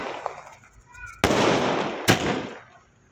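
A 60-shot sky shot firework cake fires outdoors, two sharp loud bangs less than a second apart, each followed by a long crackling roar.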